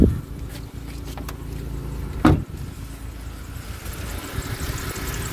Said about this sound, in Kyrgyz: Мотор вообще тынч иштейт экен.